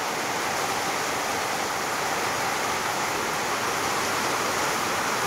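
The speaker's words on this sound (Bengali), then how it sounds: "অনেক জোরে বৃষ্টি আসছে।" Heavy rain pours down during a night thunderstorm, a dense, loud, unbroken roar of falling water with no distinct thunder claps and no voices.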